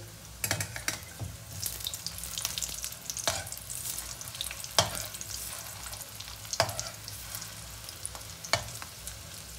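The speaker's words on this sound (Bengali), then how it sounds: "এবার আমি পকোড়াটাকে আস্তে আস্তে উল্টে দেবো।" Rohu fish roe pakoras sizzling in hot oil as they are turned over one by one, a steady fry punctuated by several sharp scraping clatters of the spatula, close and without voices.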